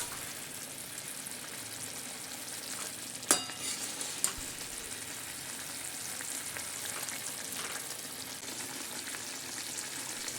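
Large puffed fulori fritters deep-frying in hot oil: a steady close sizzle and bubbling with a couple of sharp ticks from stirring or turning, and no talk.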